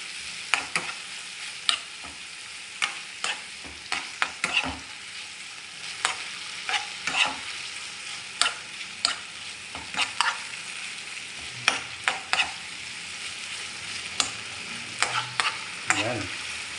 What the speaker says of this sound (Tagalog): Lutuin lang po muna natin itong bacon